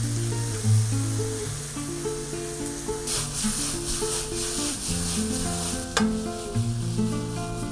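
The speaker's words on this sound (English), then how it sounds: "I'm going to saute all three of these ingredients together in that butter until they begin to soften" Tomatoes and onions sautéing in butter in a skillet, a continuous sizzle with bursts of stirring and scraping around the middle and near the end, close and fairly loud over steady background tones.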